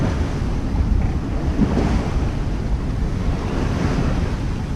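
Strong wind and waves around a sailboat sailing close hauled in 24 to 25 knots off the Cape Town coast, a loud, steady roar of gusting wind and rushing water with heavy microphone buffeting and no talking.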